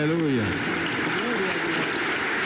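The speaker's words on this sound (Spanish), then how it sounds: "aplauso para el Señor Jesús" A church congregation claps steadily and loudly throughout, while a voice speaks over the applause.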